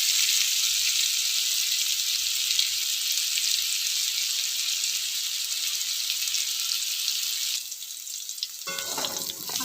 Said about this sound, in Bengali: আলুটা আমি ভেজে ঢাকা দিয়ে ভাজবো একটু।